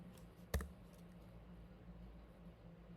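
A single sharp key click on a computer keyboard while typing a short test message, one clear tap near the start over a quiet room hum, then stillness.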